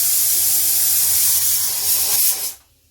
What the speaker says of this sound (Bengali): এবার প্রেশার কুকারে সিটি আটকে বসিয়ে দিয়ে